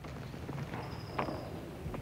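A horse's hooves clop slowly and unevenly on the ground in a Western setting; a few distinct nearby hoof strikes sit over a soft, steady background hiss.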